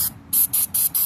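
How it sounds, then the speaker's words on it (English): Four short bursts of aerosol electrical cleaner spray onto shift solenoid connectors of a 1994 Jeep Grand Cherokee 5.2L, each a sharp hiss lasting a fraction of a second, separated by brief pauses, close and fairly loud. "You want to spray down connectors too."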